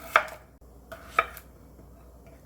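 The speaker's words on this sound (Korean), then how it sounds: "감자 한 개, 얇게 썰어주세요" A knife thinly slicing a potato on a cutting board for doenjang jjigae, with a few crisp, separate chops spaced irregularly and quiet in between.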